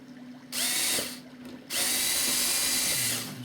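A power drill drives a bolt into an Edge 540 model aircraft at the control surface and wing seam, whirring loudly and close in two sustained runs with a brief pause between them.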